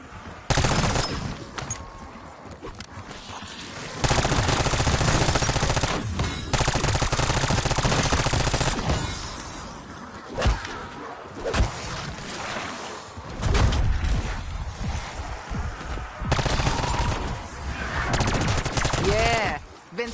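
Rapid automatic gunfire from an AK-74 assault rifle mowing down zombies in Call of Duty Black Ops 6, coming in loud sustained bursts separated by short gaps, with a voice now and then.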